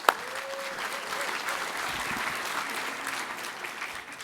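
An audience at a cultural diversity awards ceremony applauds an award presenter, steady clapping from a crowd filling the room at moderate volume without voices.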